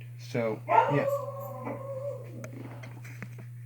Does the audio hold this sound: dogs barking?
yes